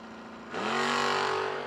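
A Chevrolet Camaro and a Suzuki motorcycle launching side by side at a drag race, a sudden loud engine roar rising from a low idle and holding at high revs.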